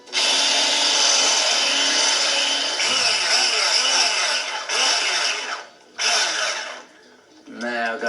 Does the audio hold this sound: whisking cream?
yes